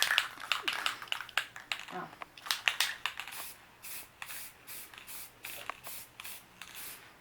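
Rust-Oleum 2X Ultra Cover white satin spray paint hisses from the can onto a mug in repeated short bursts, close and steady, with light handling sounds between strokes.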